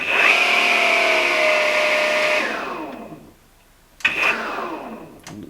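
A TICHOP DC-9913 metal cutting saw spinning at 2000 RPM gives a steady, smooth whine that winds down and fades to near silence, followed by a couple of brief clunks nearby.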